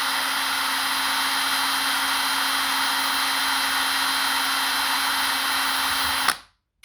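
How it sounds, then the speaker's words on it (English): A small power drill bores a 2mm hole into the plastic housing of a bike rear light, a steady high whine that runs unbroken for about six seconds before cutting off sharply. "so carefully drill that."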